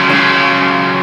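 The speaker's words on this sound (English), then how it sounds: "That's distortion." A brief burst of a heavily distorted electric guitar chord, sustained and buzzing at full volume.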